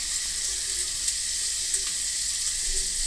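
Ingredients fry in a pan for a samosa filling, giving a steady, even hiss of sizzling oil throughout with a few faint pops and no talking.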